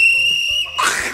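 A shrill, sustained whistle blast rings steadily for most of the moment, then cuts into a noisy burst of shouting or scuffle at the end.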